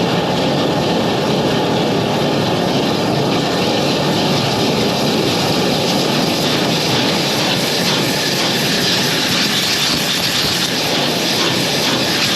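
A high-pressure water jet runs through a drain pipe during drain cleaning, a loud, continuous broadband roar and hiss that holds steady at close range without a break.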